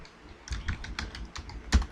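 Keystrokes on a computer keyboard while entering data in an MS Excel spreadsheet, a quick run of close, light clicks ending in one louder tap, with no talk.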